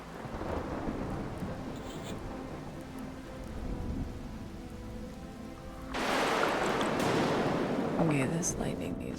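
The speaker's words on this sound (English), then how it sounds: "this lightning needs to stop" A thunderstorm in the survival video game Smalland: Survive the Wilds, with steady rain and a loud roll of thunder swelling up in the second half.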